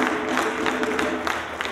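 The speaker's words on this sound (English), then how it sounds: "Let's give him a round of applause." An audience at a Kwanzaa celebration event applauding, a dense steady patter of many hands clapping throughout, fairly loud and close.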